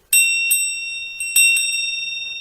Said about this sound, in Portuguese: o sino tocou.